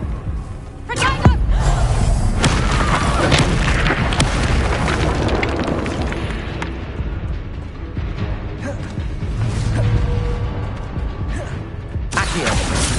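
Confringo spell explosions in a Hogwarts video game: repeated booms and crashing bursts, dense and loud throughout, with sharp impacts scattered among rumbling blasts.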